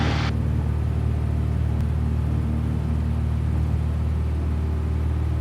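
A Cessna 172 engine roars during takeoff and climb on a cold morning, a steady loud droning rumble heard from inside the cabin, constant throughout.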